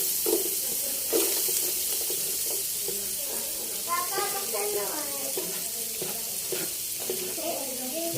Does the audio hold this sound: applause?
no